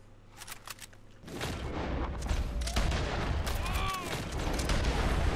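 Gunshots ring out in Red Dead Online's Christmas update: after a quiet start, a dense volley of sharp cracks and rumbling reports keeps up loud and continuous, with voices occasionally heard in the mix.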